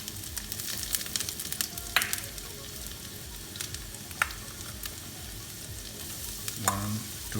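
Ginger sizzling steadily in hot oil, a continuous crackling fry with a few scrapes of stirring at intervals and no talking.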